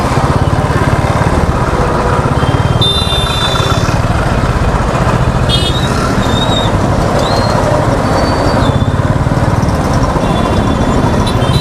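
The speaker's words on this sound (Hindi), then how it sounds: "So much traffic." Continuous loud engine drone from a motorcycle on a busy road in India, with passing traffic and faint horn-like tones rising over the steady rumble throughout.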